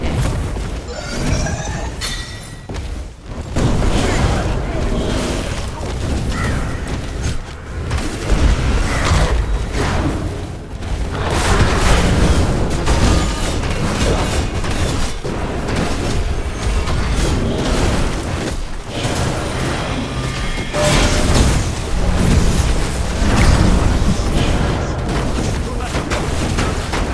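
A dense, continuous barrage of booms, crashes and shattering impacts fills a SMITE 2 battle as a structure is destroyed, loud throughout, with an in-game announcer voice speaking over the chaos.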